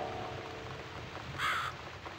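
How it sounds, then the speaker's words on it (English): A crow caws in the video game The Cat Lady, one short harsh call rising clearly above a steady low background hum, fairly close and alone without any voices. "It's this damn bird again."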